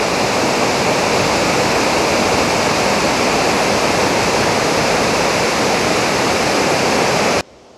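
A noisy river rushes right beside a hotel in Italy, a loud, dense, unbroken roar of water that fills the scene without a pause, alone with no voices, cutting off abruptly at the end.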